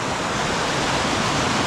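Small waterfall in a rural valley, a steady broadband rush of falling water close by, continuous and even throughout with no voices.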